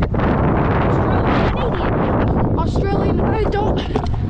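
Gusty wind buffets the microphone at an outdoor skatepark, a loud continuous rumble with someone talking over it.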